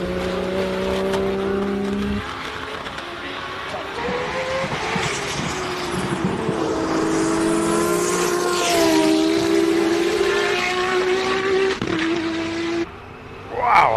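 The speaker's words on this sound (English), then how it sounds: "You got engine noise, induction noise, exhaust noise" A Nissan R34 race car accelerates hard up a hill climb course, its engine, induction and exhaust roaring loud and close with rising pitch through gear changes, ending in a brief lull and a final burst.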